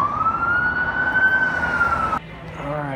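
An emergency vehicle siren holds a steady rising wail close and loud, then cuts off abruptly, leaving faint background and a voice.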